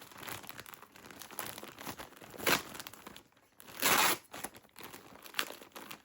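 Brown wrapping paper crinkles and rustles steadily up close, with a few louder tearing crunches as it is pulled apart.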